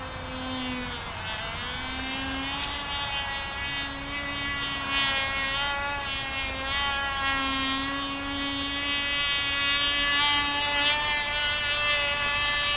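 A Cox Tee Dee .051 glow engine powers a small RC model airplane in flight, its high, buzzing whine steady and loud for the whole stretch, pitch wavering slightly as the plane passes at a distance outdoors.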